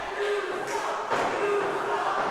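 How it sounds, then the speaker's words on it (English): Wrestling crowd at an Xtreme World Wrestling Halloween Massacre pay-per-view chanting together in a steady, sustained roar, with a couple of swells and no clear talk on top. "Crowd chanting."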